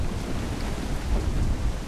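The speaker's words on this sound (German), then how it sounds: "Ein Sturm, Captain." A thunderstorm at sea in Assassin's Creed IV: Black Flag rumbles as a steady, loud wash of rain and wind with low thunder swelling underneath, no voices.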